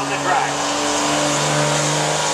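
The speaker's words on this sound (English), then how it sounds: "A smoke roll in a Dodge comes down the" A Dodge pulling truck's engine roars loudly and continuously as it heads down the dirt pull track at a county truck pull, with an announcer talking over it.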